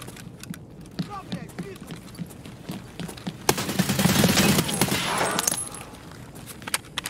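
Bursts of rapid gunfire crackle through a busy Escape From Tarkov soundscape on the Factory map, growing loud and dense midway before thinning out, with scattered clicks and movement around it.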